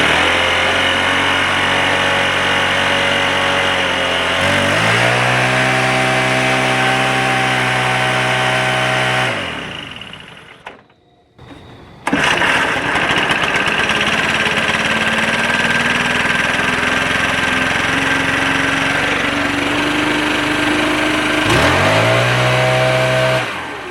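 Stihl BR600 backpack blower engine with hard pull-starting and a valve adjustment issue, running loud at fast idle with revving pitch changes, cutting out briefly near the middle, then restarting and climbing steadily in pitch.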